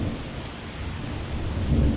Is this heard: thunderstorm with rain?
yes